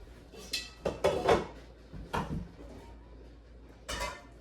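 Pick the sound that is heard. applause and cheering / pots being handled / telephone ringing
pots being handled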